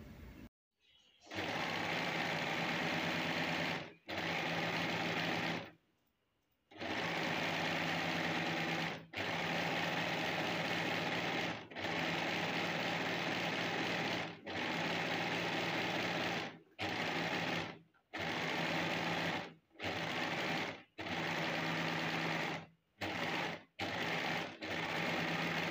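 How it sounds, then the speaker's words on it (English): A serger overlock machine stitching palazzo pants runs in long, loud, steady bursts, stopping and restarting repeatedly with short pauses between runs, close by. "So again I'm doing this by serger, but you can use the regular machine."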